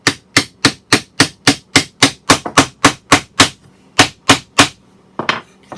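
A tight wood joint being tapped together, a steady series of about fifteen sharp, loud knocks in quick even rhythm, a brief pause, then a few more raps and a final softer shuffle, close up with no talking.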